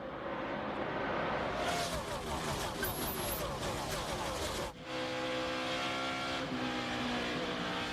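NASCAR Cup Series race cars roar past together at the start of a race, a dense wall of high-revving engines with overlapping pitch shifts, loud and steady, while an announcer speaks over the field.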